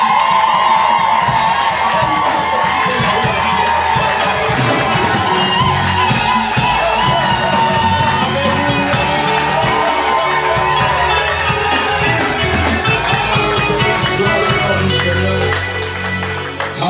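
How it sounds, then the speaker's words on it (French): A church congregation at a pastor's consecration service cheers and acclaims loudly, a dense, continuous roar of many voices that fills the whole stretch without a break. "encore acclamons très fort le Seigneur"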